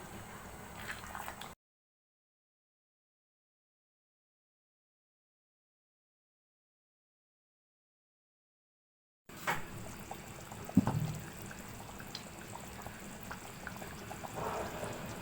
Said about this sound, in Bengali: আমি একটু পানি দিয়ে দিচ্ছি ঝোলের জন্য।